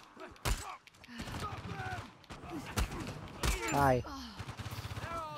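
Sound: machine gun fire in video game Uncharted 4

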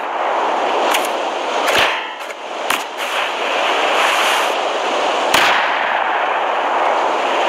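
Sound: rocket explosions in the video game Rust

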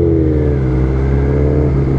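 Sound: motorcycle accelerating in first gear

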